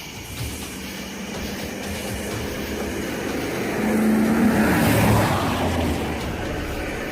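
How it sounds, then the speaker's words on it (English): At night on a bridge, an oncoming car's engine rumbles low and steady, then swells as it draws nearer about midway through, before easing back into the dark background hum. "The sound of an approaching engine turns out to be nothing more than oncoming traffic."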